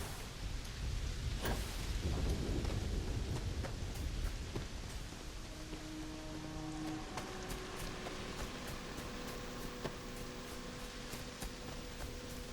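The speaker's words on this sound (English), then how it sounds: "Nice and rainy on this side of Jemison." Rain falls steadily on a planet in the game Starfield, a dense even hiss that swells early and then settles, with faint distant thunder possible beneath and no talking.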